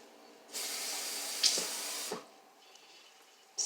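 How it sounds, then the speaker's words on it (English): Water being poured into a crockpot chicken pot pie soup, a steady close hissing splash lasting about a second and a half with a small clunk in the middle, then quiet. "Just going to add a little more water"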